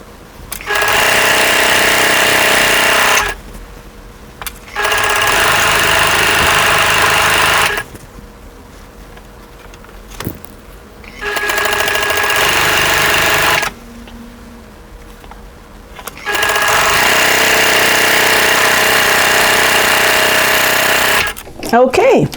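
A sewing machine stitches a quilt strip set in four long, loud bursts of rapid mechanical chatter, each a few seconds long, separated by short quiet pauses.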